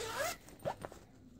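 An Eagle Creek toiletry bag zipper is pulled, a quick close rasping zip followed by a couple of soft rustling handling sounds.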